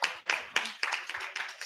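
An audience claps at a camp meeting, a patter of uneven hand claps that rises and dips in close succession for under two seconds.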